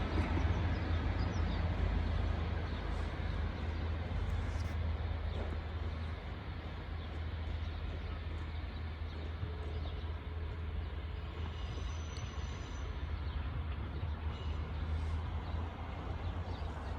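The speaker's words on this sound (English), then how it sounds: "Arriving in now is the 1058 Transport for Wales service from Milford Haven to Manchester Piccadilly." A Transport for Wales passenger train arrives at Hereford station as a faint, steady rumble of wheels and engine that stays even and distant throughout, with no talking.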